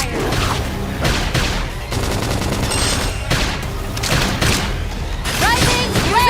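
Dense bursts of rapid gunfire and thuds fill a busy battle in Xenoblade Chronicles X: Definitive Edition, with voices and sharp effects layered over the steady barrage.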